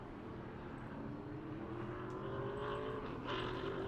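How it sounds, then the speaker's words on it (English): A race car on a qualifying lap at New Smyrna gives a loud, continuous engine roar that climbs steadily in pitch as it accelerates, with no voices over it. "Derek Kelly, third car to complete his qualifying effort as he crosses the stripe."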